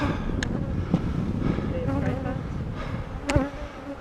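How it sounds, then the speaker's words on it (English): Honey bees swarm around a nuc hive during installation, a dense continuous buzz close to the microphone with individual bees zipping past now and then. "these is just caked with bees"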